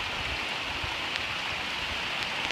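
Heavy rain pours outdoors during a thunderstorm at a metal detecting outing near Pittsburgh, a dense, steady hiss of drops close by with no voices.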